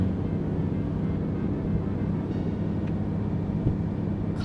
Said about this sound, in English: I turned the engine noise up so that I could hear it a little bit better